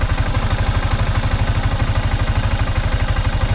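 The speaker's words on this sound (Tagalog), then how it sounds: "parang nag-iba na yung tunog ng kanyang makina kumpara dun sa dati pa." A 2023 Yamaha Sniper 155R motorcycle engine with 16,000 km on the odometer idles steadily up close, its low, rapid chugging pulse holding an even rhythm throughout with no other sounds.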